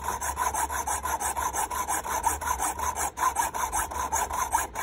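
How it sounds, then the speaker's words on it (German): A metal screw is shortened with a hand saw or file, giving steady rhythmic rasping strokes, close and fairly loud, with no speech. "Dazu muss ich aber die Schraube erstmal kürzen, die ist zu lang."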